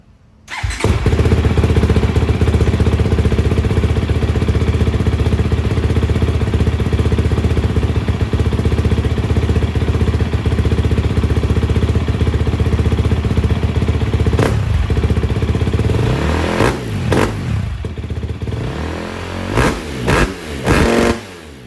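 A 2022.5 KTM 250 SX-F Factory Edition dirt bike on its stock exhaust starts up and idles with a loud, steady four-stroke drone, close by, then gives several sharp throttle blips near the end.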